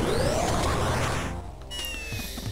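A cat meows loudly and close by in a drawn-out rising call, followed by a shorter fainter meow.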